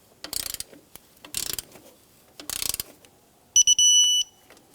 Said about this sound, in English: I'm going to torque up the alternator adjusting bolt, and that's 22 foot-pounds.